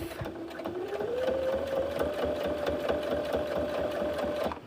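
A sewing machine stitches lining fabric for a boxy bag, running steadily up to a clear whirring hum that holds until it stops at the end, close and loud with no talking.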